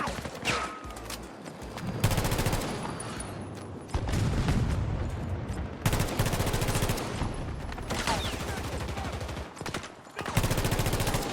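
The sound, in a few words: VHX-D3 gunfire in video game Battlefield 2042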